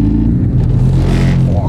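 A Porsche 718 Cayman S on new tyres gives a loud, close engine roar that swells briefly and holds steady for under two seconds, with a voice faintly underneath.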